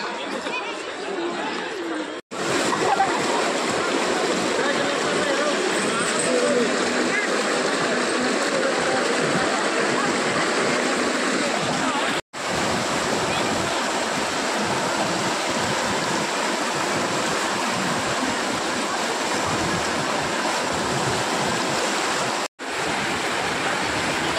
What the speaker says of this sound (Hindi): ये देखो दोस्तों जल का बहाव देख रहे हो घाट पे देखो कितना ज़्यादा है